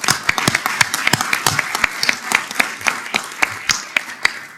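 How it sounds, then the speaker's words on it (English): Audience applause after a chairman's panel session, a dense patter of many hands clapping steadily with sharp individual claps standing out near the front, continuous for several seconds with no talk. "please let us share a round of acknowledgement and applause"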